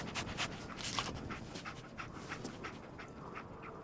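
Dogmeat, the dog companion in Fallout 4, pants in quick, steady, breathy bursts close by. The panting is faint and continuous with no talking over it.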